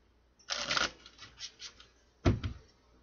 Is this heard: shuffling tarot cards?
yes